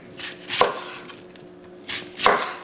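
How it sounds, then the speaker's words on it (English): A knife cuts an onion on a board in two sharp chops about two seconds apart, close and crisp over a quiet kitchen background. "we're just going to cut this onion up real quick"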